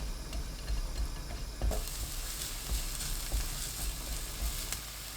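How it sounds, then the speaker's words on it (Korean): Minced garlic and green onion stir-frying in a tablespoon of cooking oil over high heat, a steady close sizzle that swells louder partway through, with occasional soft clicks of stirring. "팬에 식용유 1큰술, 다진 마늘 1큰술, 파 넣고 센 불로 1분 볶습니다."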